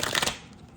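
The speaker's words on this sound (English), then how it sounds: "it sounds nice too as you shuffle it" A Moon Power tarot deck being shuffled by hand, a brisk papery riffle of cards lasting a fraction of a second, then fading into quiet room tone.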